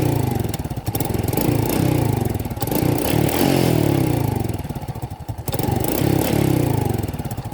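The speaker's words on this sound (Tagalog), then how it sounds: "hindi na namamatay ang andar kapag binibigla mong pagbirit dito sa silinyador ng throttle body" A Suzuki Raider J 115 fuel-injected motorcycle engine runs continuously and loud, its throttle blipped repeatedly without stalling, so the revs rise and fall in rough, clattering bursts.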